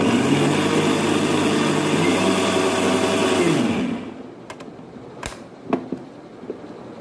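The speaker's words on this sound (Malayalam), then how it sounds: "മിക്സിയിൽ നല്ലോണം അരക്കണം" A mixer grinder purees cooked tomatoes for homemade tomato sauce: a loud, steady motor whir runs for about four seconds, then cuts off, leaving a few light clinks and knocks.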